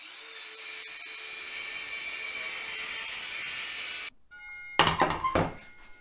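A DeWalt DCS571N mini circular saw whines steadily at high pitch for about four seconds cutting wet wall panel, then stops briefly before a sharp clattering burst of the blade biting through, fading out.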